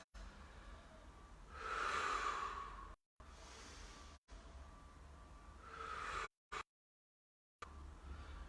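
Slow, audible yoga breaths during a live class, two long airy exhales rising and fading about four seconds apart, close and soft, with brief gaps of silence between.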